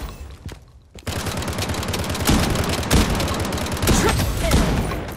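Sustained automatic gunfire in the mobile shooter Project: Bloodstrike on iOS, starting after a brief quiet moment and continuing as dense, loud, rattling volleys with booming impacts.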